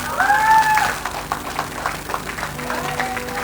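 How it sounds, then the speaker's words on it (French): Scattered applause rises from a church congregation, with a high drawn-out vocal cry over the clapping at the start. "Applaudissons le Seigneur, applaudissons le Seigneur avec amour."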